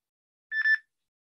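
A mobile phone gives a short electronic ring or alarm tone, a brief clear beeping burst of about a third of a second, fairly loud and alone against silence.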